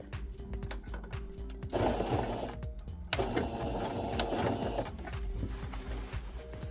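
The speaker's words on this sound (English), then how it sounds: "I sew seam allowance on the wrong side." A sewing machine stitching the seam allowance of a vintage-style napkin, running in bursts with a rapid mechanical whir that starts and stops, loud and close with brief pauses between runs.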